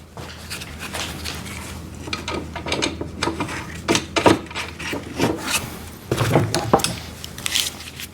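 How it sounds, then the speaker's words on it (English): Ratchet and wrench tightening 17 mm wheel nuts on a drain cleaner machine, giving a run of close, irregular clicking and grinding bursts with no talk. "ratchet and a 17mm wrench on the other side"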